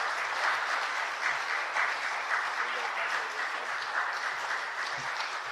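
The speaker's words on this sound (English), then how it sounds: "Please, a big round of applause for sir." Steady, dense applause from a conference audience at a corporate CSR event, continuous clapping at even strength throughout with no speech over it.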